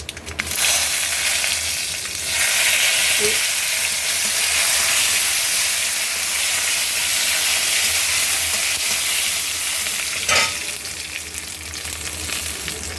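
Chillies fry in a pan of hot oil for Kerala-style inji puli, a loud, steady sizzle that holds for the whole stretch with a couple of brief stirring knocks.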